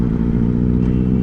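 A Benelli 600i motorcycle engine runs close and loud, a steady, dense low rumble held at a constant pitch throughout, with no clear rise or fall in revs.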